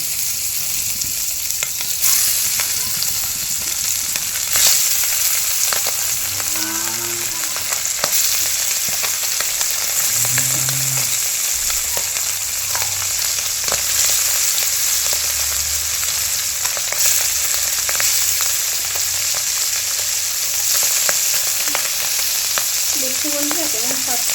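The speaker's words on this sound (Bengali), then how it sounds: "এবার একা একে মাছগুলোকে ছেড়ে দিচ্ছি" Small fish frying one by one in hot oil with green tomato and potato, cooked the traditional village way; a loud, steady sizzle runs throughout, with a few sharper bursts as pieces drop into the oil.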